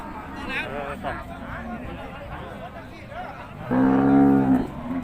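Thai cattle at a busy village cattle market: a loud, close moo rises near the end over a background of crowd chatter and people talking.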